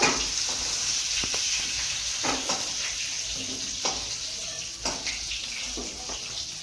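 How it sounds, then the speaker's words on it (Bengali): Constant oily sizzle of potatoes frying in oil, with intermittent scraping and stirring taps against the pan, moderately close. "আলুগুলো লাল লাল করে ভেজে নিতে হবে।"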